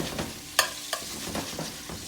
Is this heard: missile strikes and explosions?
no